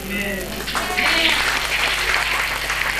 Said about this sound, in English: I want some more clap